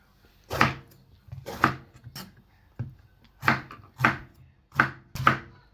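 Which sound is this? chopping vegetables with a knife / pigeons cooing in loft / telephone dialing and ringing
chopping vegetables with a knife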